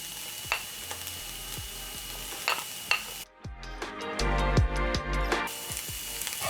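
Onions and green onion sizzle in hot cooking oil in a pan, with a steady frying hiss, a sharper burst partway through as more goes in, and occasional utensil scrapes while everything is stirred. No one speaks.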